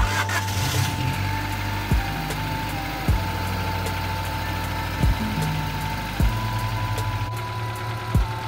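A car engine idles steadily after starting, with its bay freshly cleaned. The low hum is close and even, broken by a few sharp ticks spaced a second or two apart, with no talk.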